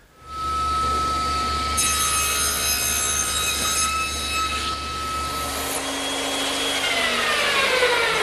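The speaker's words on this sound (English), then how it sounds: "I could use a hand saw to remove the material, but the band saw is just quicker" A band saw cutting wood to form a tenon, with a steady motor hum and a high tone, joined by brief rasping cutting bursts midway, then a lower drone as the blade runs on.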